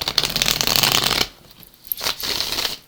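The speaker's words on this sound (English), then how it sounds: "Two more shuffles." Tarot cards being shuffled by hand: a dense, close riffling burst, a short pause, then another brisker round of shuffling, with no voices.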